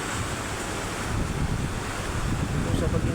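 Wind sweeping through a flooded street in heavy rain, a steady, loud broadband roar with gusty swells and no pauses.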